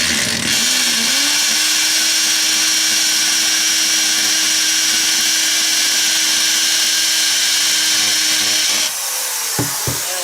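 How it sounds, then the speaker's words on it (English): A hammer drill whines loudly at a steady pitch for several seconds, then stops, followed by a couple of short knocks. "Drill with my left hand, which is not good."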